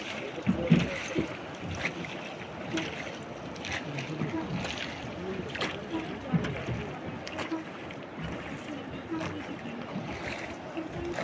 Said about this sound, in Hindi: पानी की आवाज है ना उधर